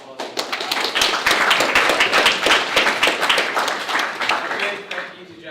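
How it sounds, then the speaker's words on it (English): An audience at a hackathon demo event applauds the participants with a dense, loud burst of many hands clapping that holds steady for about five seconds before thinning slightly at the end. "A massive round of applause."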